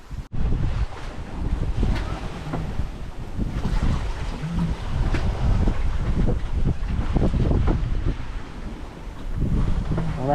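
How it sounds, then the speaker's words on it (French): Strong wind buffets a sailboat at sea on a crossing to Corsica, a beam wind roaring across the microphone with irregular gusts and water sloshing against the hull throughout. "On a un vent du plein travers ici là"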